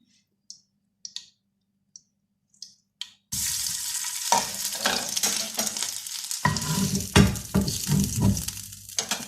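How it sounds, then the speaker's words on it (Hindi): A Peshawari chapli kabab is lowered into hot oil and fries with a sudden loud, crackling sizzle, with utensil clicks and stirring scrapes, after a few faint ticks in near silence. "तेल गरम होगा, चमचे की मदद से आराम से आप इसको तेल में उतारें"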